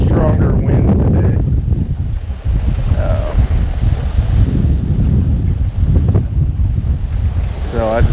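Strong, steady wind buffets the microphone outdoors during a fishing outing, a continuous low roar with gusts, while a voice talks briefly at the start and end.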